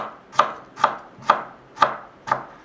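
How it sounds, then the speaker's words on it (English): A knife julienning pickled radish on a cutting board makes five crisp, evenly spaced chops in a steady rhythm, close and clear with no talking. "And you want to julienne them again."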